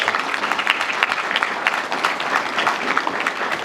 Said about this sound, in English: I just want to give a round of applause to Mr. Chris